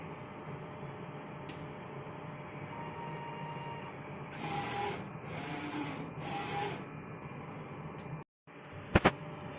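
An inkjet printer runs a nozzle check after head cleaning, giving a steady mechanical whir with louder carriage passes in the middle and a few sharp clicks near the end, with no talk.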